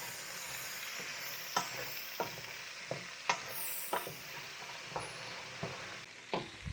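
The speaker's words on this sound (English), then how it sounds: "Go ahead with a little garlic right here. About that much. Give this a good stir." Garlic sizzling in a pot for red beans and rice, with a soft steady fry under a series of sharp spoon scrapes and clinks as it is stirred, close and fairly quiet.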